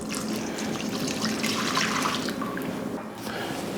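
Milk pours into a bowl holding Jello pudding mix with a continuous close splashing gurgle that lasts a few seconds and eases slightly near the end.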